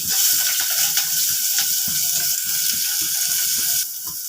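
Ginger pieces frying in hot oil with five-spice seeds, giving a steady close sizzle with small crackles and light stirring scrapes throughout, dropping slightly quieter near the end.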